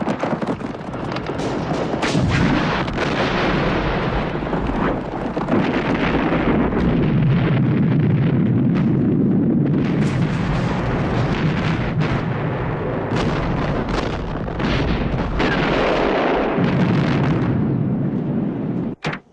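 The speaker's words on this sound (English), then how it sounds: "I'll blow up the benzene." A benzene fuel dump blown up in a desert war setting, heard as a continuous roaring, rumbling blast with crackling bursts and booming detonations sustained loudly throughout, like heavy explosions and fire.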